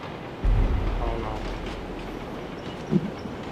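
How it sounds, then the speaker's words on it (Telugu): A moving train in the BGMI battle royale game rumbles low and steady through most of the stretch, with a brief louder knock near the end. "మూవింగ్ ట్రైన్లో జంప్ చేస్తే మూవింగ్ ట్రైన్ మీదే ఉంది"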